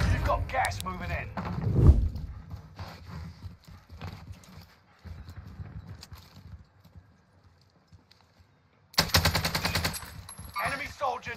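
Gunfire in Call of Duty Warzone: bursts of rapid shots, loud at the start, scattered quieter shots in the middle and a dense closing burst, with voices and other game sounds mixed in.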